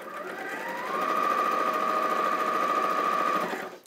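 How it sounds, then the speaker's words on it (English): A 560 sewing machine stitches a small quilt block at a steady scant quarter inch, a continuous whirring hum that runs close and even for several seconds before stopping, with no talk. "because I've got the fabulous 560, I'm going to sew off that little block"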